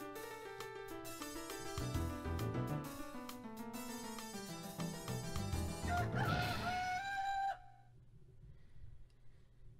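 A rooster crowing in Breath of Fire III, a long rising and falling cock-a-doodle-doo over a few seconds, loud and near, ending abruptly and leaving near silence.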